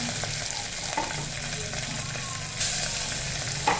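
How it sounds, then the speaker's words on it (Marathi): Garlic fries in hot oil with cumin and curry leaves for a dal tadka, giving a dense, steady close-up sizzle with occasional stirring taps against the pan. "लसण टाकून घेतला आता लसूण पण छान फ्राय होऊ"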